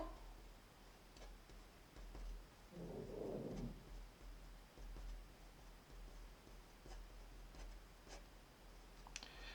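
Pen or marker scratching across paper while equations are written out by hand during a maths lesson, a quiet steady scribble with short taps and a brief louder rustle partway through.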